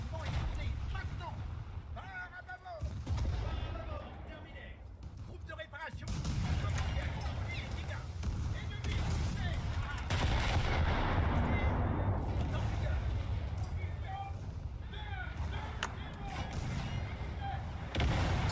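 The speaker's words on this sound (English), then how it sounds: "There's at least 3 shooting at me." Heavy naval gunfire from several bot warships in War Thunder, booming continuously and loud against a thick rumbling battle din, with a voice talking over it.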